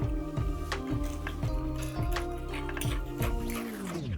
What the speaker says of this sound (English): Whisk the sugar in.